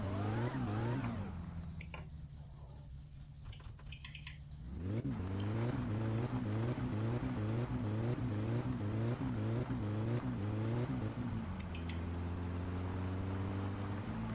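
A rally car engine in the video game My Summer Car, driven hard: loud continuous revving with repeated rising pitch sweeps through gear changes, then a steadier high drone.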